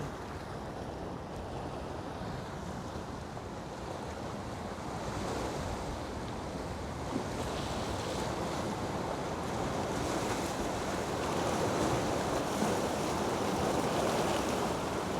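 Ocean waves washing ashore as a steady, broad roar with wind buffeting the microphone, building slightly louder toward the end; no voices.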